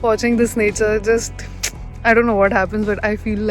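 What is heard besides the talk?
None of the usual background noises is heard.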